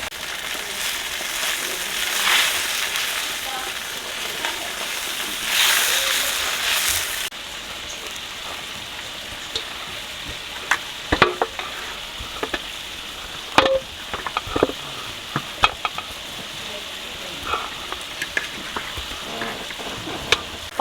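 Chicken legs browning in a large pot give a loud sizzling hiss that drops partway through, followed by quieter frying with scattered clinks and scrapes of stirring, and no one speaks.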